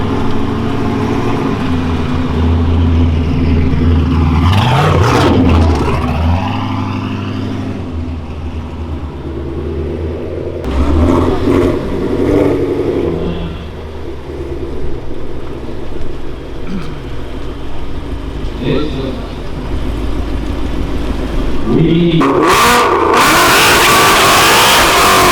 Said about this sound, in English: Why are these cars so loud?